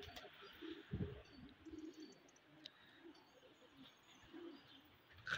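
Pigeons coo softly in a quiet outdoor spot, low murmuring calls repeating faintly at intervals, with a sharper sound near the end.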